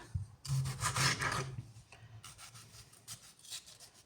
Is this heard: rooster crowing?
no